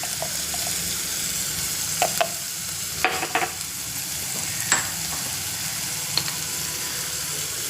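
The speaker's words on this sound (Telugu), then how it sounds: "ఇప్పుడు ఇది వేగుతుంది కదా" Soya chunks and greens frying in oil in a pan, a steady low sizzle with occasional sharp clicks and scrapes of a stirring spoon, no voices.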